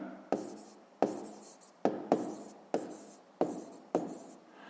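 Pen strokes on paper as a math exercise answer is written out by hand: seven sharp taps at the start of each stroke, each trailing into a short scratching scribble, close and alone without talk.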